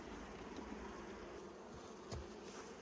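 Honey bees buzzing at a hive, a faint continuous hum with occasional closer passes.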